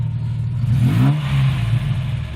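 A 1987 Ford Capri 280 Brooklands V6 revs up close and loud, pitch swelling and falling once over a steady low rumble, with no talking.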